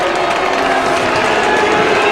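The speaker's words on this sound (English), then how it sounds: "The crowd not very happy." A large football crowd at the 1994 round 24 Sydney Swans versus Melbourne match roars steadily after a Melbourne goal, a dense, continuous wash of cheering and noise that stays loud throughout.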